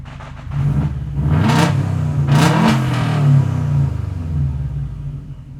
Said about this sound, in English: Right now the exhaust, all it has on is just the resonator. It sounds pretty good.